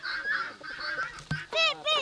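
Several geese honk repeatedly on a farm alongside other poultry, loud nasal calls overlapping in bursts, close by and outdoors.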